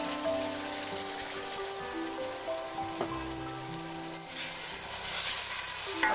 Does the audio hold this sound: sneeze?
no